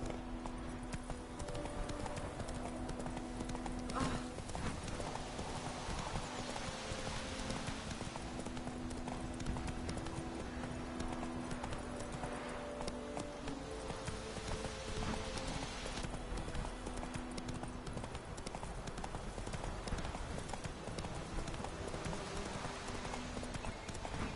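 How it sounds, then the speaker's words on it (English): Hooves of a galloping horse in The Witcher 3 video game clop in a steady, fast, continuous rhythm at close range for the whole stretch, with a brief whinny-like sound, over constant background game ambience. "Not so fast, Roach."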